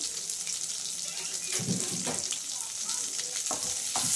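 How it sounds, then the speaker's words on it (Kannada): Onions frying in oil in a pan for palak paneer gravy, giving a steady close sizzle with occasional stirring scrapes and a few watery splashes. "ನಾನಿವಾಗ ಈರುಳ್ಳಿ ಹಾಕ್ತೀನಿ. ಹಸಿ ವಾಸನೆ ಎಲ್ಲ ಹೋಗೋದಕ್ಕೆ ಇದ್ರಲ್ಲಿ ಫ್ರೈ ಮಾಡ್ಕೊಳ್ಳೋದು."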